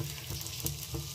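Chili tadka crackles and sizzles in hot desi ghee for lentil dal, with short sputtering pops over a steady frying hiss.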